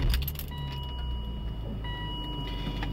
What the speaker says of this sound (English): so we'll start up the car